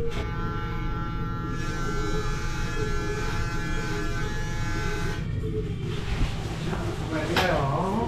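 Electric hair clippers buzz steadily through a barbershop haircut in Korea, a close continuous hum with shifting pitch, under faint background voices and room noise.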